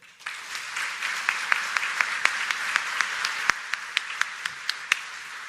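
An audience at a press conference applauds to welcome Ontario Premier Doug Ford, the clapping swelling quickly and staying full, with a few sharp louder claps standing out at regular intervals.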